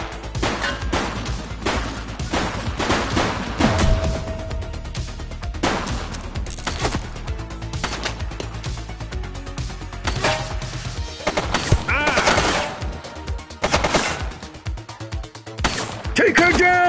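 Gunfire in The Precinct video game: repeated loud shots and impact crashes in scattered bursts, mixed with game voices talking over the action.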